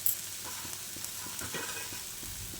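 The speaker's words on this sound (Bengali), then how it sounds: "বাদামগুলো দিয়ে ভালো করে নেড়ে চেড়ে ভেজে নিয়ে আমি নামিয়ে নেব" Peanuts are stirred and fried in a pan with chopped and ground green chillies, making a faint, steady sizzle with soft scraping stirs scattered throughout.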